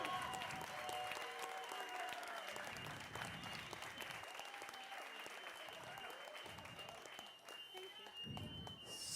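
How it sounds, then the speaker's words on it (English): An audience applauds at a community coffee barista championship, with steady clapping that carries on through the whole stretch, fairly distant and even in level. "It sounded like clapping, so that's good."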